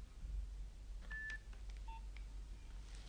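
A few short phone keypad tones beep quietly, one after another, over a low steady background hum.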